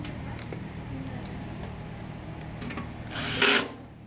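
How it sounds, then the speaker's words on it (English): A power drill drives screws into the fax board plate of a Ricoh MP C3300 copier, faint whirring under soft handling noise before a short, louder burst of drilling near the end. "we're going to put 2 screws there that hold that"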